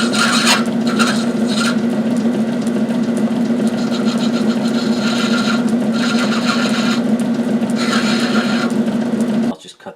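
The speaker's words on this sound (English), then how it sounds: "Just using high-speed steel on this. Brass is pretty easy to cut." High-speed steel tool cutting brass stock, giving a loud, steady, close rasping whir that holds for about nine seconds with slight rhythmic pulses, then cuts off abruptly.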